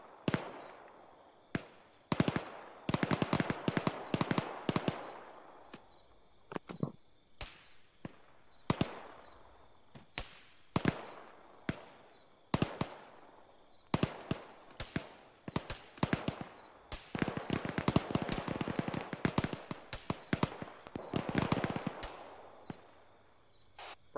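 Distant gunfire in a US SOCOM jungle mission: sharp pop shots fired singly and in rapid clusters across the stretch, crisp cracks over quiet background, some volleys denser than others.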